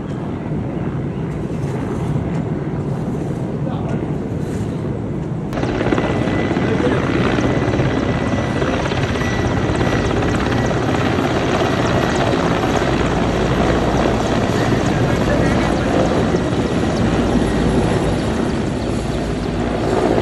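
A helicopter landing at Burtuk helipad in Lachen, North Sikkim, with a steady loud rotor and engine roar that thickens partway through and persists throughout.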